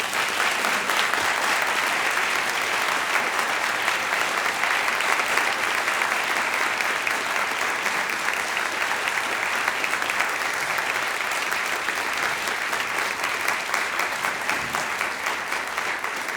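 Debate audience applauding as the debaters come onto the stage, a loud, dense and sustained roar of clapping that stays level for about sixteen seconds with no talk over it.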